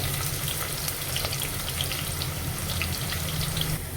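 Onions frying in oil in a pan for Maharashtrian masale bhat, a steady close crackling sizzle that holds evenly throughout with no talking.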